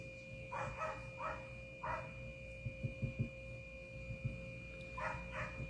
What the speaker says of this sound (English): I don't know if you guys can hear that dog.